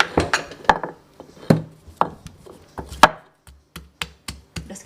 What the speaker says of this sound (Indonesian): Jadi kita ulek dulu. Kita ulek sama garam,